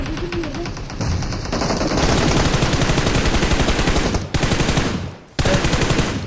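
Sustained rapid automatic gunfire from a shooting video game, loud and continuous bursts with two brief pauses, filling the whole stretch with no talk over it.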